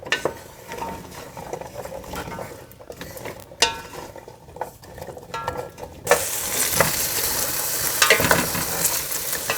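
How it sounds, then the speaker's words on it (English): Potatoes simmer and fry in oil at the bottom of a pot for asparagus soup, with stirring and scraping clinks at first, then a louder, continuous sizzle for the final few seconds; no speech. "Let it all simmer away for about 5 minutes."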